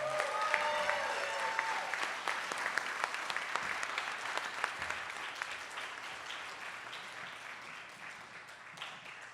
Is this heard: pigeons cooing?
no